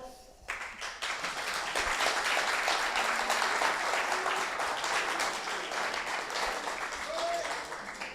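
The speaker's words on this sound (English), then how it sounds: "Vous applaudissez, celui qui a le plus d'applaudissements gagne." Audience at a startup pitch event applauds the pitchers on stage, sustained clapping that swells and holds for several seconds, with a voice over it.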